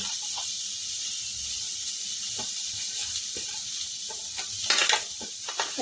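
Chopped carrot and other hard vegetables tipped into a hot pan of oil for a vegetable soup, giving a steady close sizzle with a few soft knocks and stirring scrapes near the end.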